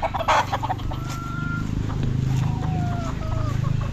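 Bullstag roosters at a gamefowl farm, tethered national stags, crowing and clucking nearby over a steady background of birds and farm noise.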